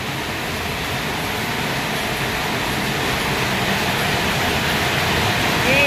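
Steady, dense broadband hiss of heavy rain, constant and even throughout, with no voices.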